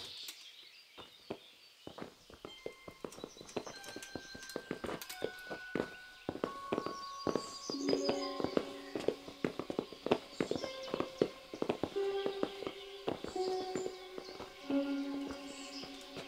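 Horses walk in a medieval setting in the video game Kingdom Come: Deliverance, with irregular hoof clip-clops and footsteps mixed under a sustained orchestral musical score, moderately loud throughout.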